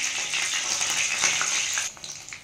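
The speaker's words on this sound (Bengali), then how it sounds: "আর এক পিঠ ভেজে নিচ্ছি" Fish sizzles in hot oil in a pan, a steady close hiss of frying that thins out and crackles unevenly near the end, with no talk.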